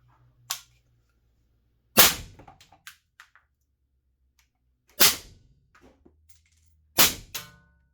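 A Galil ACE Gen 2 rifle fitted with a YHM R2 suppressor fires a short string of rounds: sharp, cracking reports at irregular intervals with brief mechanical clatter after each, set against near silence.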